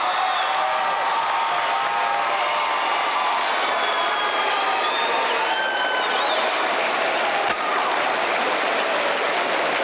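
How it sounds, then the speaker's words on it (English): Students in the stands at a high school basketball game cheer and applaud their school resource officers, a sustained roar of clapping, whoops and shouting voices filling the gym. "even cheering for their own school resource officers"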